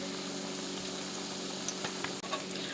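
Salmon patties frying in a pan: a steady, close oil sizzle with a few light clicks and scrapes, continuous and fairly quiet, with no voices.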